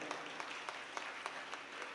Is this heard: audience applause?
yes